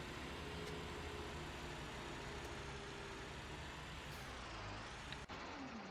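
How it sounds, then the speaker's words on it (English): Tractor in Farming Simulator 19 driving off a harvested wheat field: a steady, loud engine drone with a faint hum runs throughout, a brief rising whine near the end and a short dip. "And out with our tractor."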